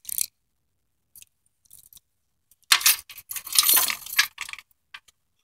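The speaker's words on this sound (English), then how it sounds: "Those are my keys falling." Metal keys dropping and jangling near a 1994 Geo Metro three-cylinder under repair, a few faint clinks followed by a close, bright burst of rattling keys settling over about two seconds.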